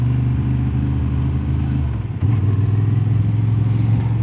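Honda Transalp 750 motorcycle ridden over a dry, sandy, bumpy gravel road, its engine droning steadily up close with a brief dip and clatter midway before the engine note returns strong.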